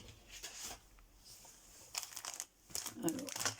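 A paper envelope being handled and torn open, with crisp crinkling and rustling in a few close bursts, heard under a woman's French-speaking voice.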